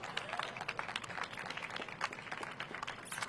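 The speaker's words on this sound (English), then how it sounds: "Give Laura a huge round of applause." Applause at a building opening ceremony in Washington, D.C., a fairly faint, steady patter of many hands clapping for a city director, heard at a distance.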